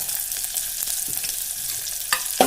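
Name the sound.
onion, curry leaves and ginger garlic paste frying in pan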